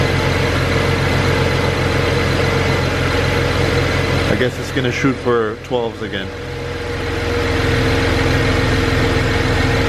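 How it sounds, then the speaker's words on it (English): A BMW N54 twin-turbo engine idles with a steady low hum, briefly broken by someone talking over it, then the idle drones on evenly. "you can hear the engine settling out"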